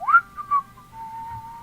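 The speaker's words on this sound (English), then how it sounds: "maybe whistling a little bit, like." A person whistles a short tune, close and clear: a few quick rising and falling notes, then a longer held tone that slowly fades, with no speech.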